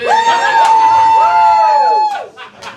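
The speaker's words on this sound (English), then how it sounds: "Give me a cheer if you hate Catholics." A comedy club audience whoops and cheers loudly, several voices rising and falling in sustained calls for about two seconds before the noise breaks up into scattered shouts.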